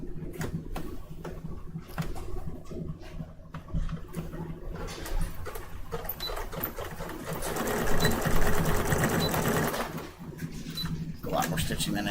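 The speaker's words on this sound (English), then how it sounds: "A lot more stitching than I needed for that one." A sewing machine stitches a project in long, steady runs, its motor humming with rapid needle clatter that grows louder and denser near the end.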